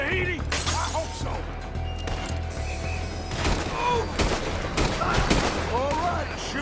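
Rapid gunfire and crashing shots from a shootout in Red Dead Redemption 2, loud and continuous with overlapping bursts, mixed with shouting and chaotic impact sounds.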